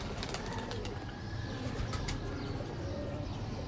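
A Teddy pigeon hen coos softly against a steady, noisy background, with faint chirps scattered through the few seconds.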